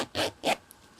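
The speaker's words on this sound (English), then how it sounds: "I can close up my zipper." An invisible zipper on fabric is pulled closed in two quick, close, rasping strokes, followed by quiet.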